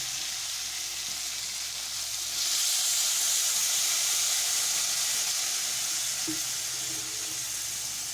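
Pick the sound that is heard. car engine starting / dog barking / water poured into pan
water poured into pan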